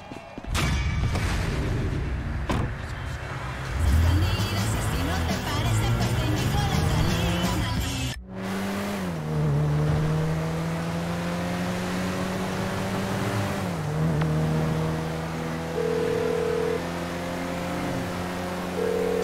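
A car in Grand Theft Auto 5 is stolen: a steady engine rumble with rising and falling revs, which settles into a sustained droning hum as the car pulls away. Loud, with a brief dip partway through.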